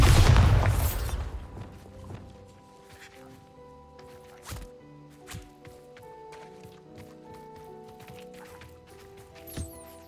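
Bombarda explosion spell cast in the video game Hogwarts Legacy: one loud, booming blast at the start that fades over about a second, followed by scattered small thumps and impacts over quiet, tonal game music.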